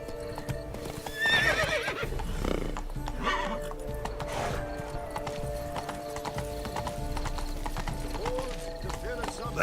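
A horse in the video game The Witcher 3 trots with steady clip-clop hoofbeats and whinnies early on, heard at moderate volume under occasional talk.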